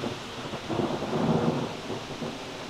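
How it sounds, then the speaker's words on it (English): Thunder rumbles low and broad through steady rain outdoors near a chicken yard, a continuous storm wash that swells in the middle and holds, with no voices. "And it's starting to rain."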